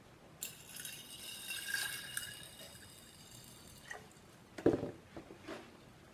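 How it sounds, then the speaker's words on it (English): Bottled water poured into a glass jar holding sprouting seeds, a soft trickling splash that starts, fades, then comes back in a brief louder gurgle near the end, close and quiet. "The next thing I'm going to do is to pour some water"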